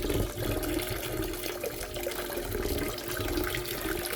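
Water rushes steadily and continuously through a Gold Screw or Double Black Diamond gold sluice separating black sand, a dense, even wash with no pauses.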